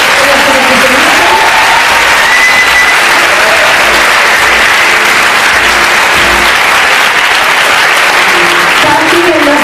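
Loud, sustained applause from a Christmas concert audience honoring the drummer, dense clapping running throughout with voices mixed in over the crowd noise.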